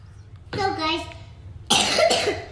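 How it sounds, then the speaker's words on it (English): A cough in a home kitchen while hot tea with lemon and honey is being made, two separate bursts: a shorter voiced one, then a louder, harsher one close to the mic. "that's a cough"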